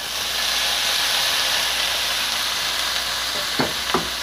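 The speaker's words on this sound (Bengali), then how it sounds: "এলাচ ও দারচিনি সুগন্ধ বের হতেই দিয়ে দিচ্ছি নারিকেল।" Grated coconut fries in a pan with cardamom and cinnamon for a coconut sondesh dessert, giving a loud, steady, close sizzle with a couple of faint stirring scrapes near the end.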